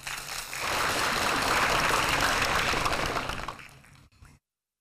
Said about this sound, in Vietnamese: xin quý vị hãy dành cho cả 3 đội một tràng pháo tay thật lớn